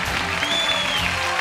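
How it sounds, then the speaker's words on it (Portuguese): A brief burst of audience clapping for a guest named Gabriel, steady and fairly close throughout, with a faint whistle-like tone rising over it. "Uma salva de palmas pro Gabriel"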